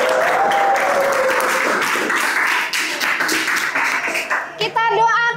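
A group at an Islamic religious gathering gives loud, close applause that thins out over a few seconds. A voice speaks near the end, and faint tonal sounds sit beneath the clapping.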